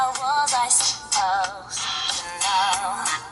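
Music plays from the built-in speaker of an Umi X2 2GB smartphone turned all the way up, sounding thin, clear and light on bass, steady and close for the whole stretch.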